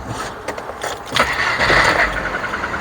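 A car with a newly fitted second-hand exhaust starts up, cranking briefly before catching into a loud, close, steady idle rumble with no talking.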